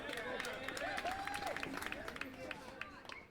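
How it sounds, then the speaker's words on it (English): Crowd applause and cheering in the Awesome Golf simulator game at the Mission Hills course: a dense, steady patter of many clapping hands with a rising cheer-like whoop, continuing throughout. "We're getting claps and cheers from everybody here."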